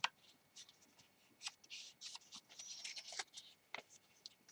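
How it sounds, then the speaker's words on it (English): Sheet of paper folded by hand into a paper dog, giving crisp rustles and soft creasing scrapes in short uneven bursts, close and fairly quiet, with no talking. "you fold it like that, and then you fold it in half"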